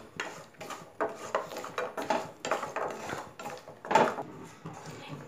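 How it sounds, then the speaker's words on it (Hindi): A utensil scrapes and stirs in a pan as jaggery melts: irregular soft scraping strokes and light metallic knocks, fairly quiet, with no talking. "अब मैं इसे गुड़ को इसके अंदर डालकर अच्छे से मेल्ट कर लूँगी। चलाते हुए मेल्ट करना है हमें।"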